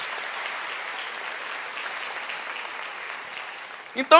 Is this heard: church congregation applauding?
yes